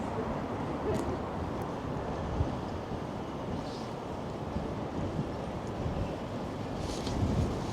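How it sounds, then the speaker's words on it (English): Constant wind buffets the microphone on a cold walk through downtown Toronto near City Hall, making a dense low rumble that never lets up, with faint street noise underneath. "Got the wind just blowing in my face continuously."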